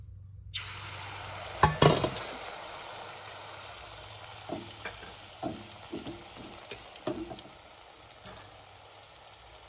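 Pitha rice cakes frying one at a time in a pan for Poush Sankranti, a soft steady sizzle under scattered clinks and taps of a utensil against the pan, with a sharper clatter near the start.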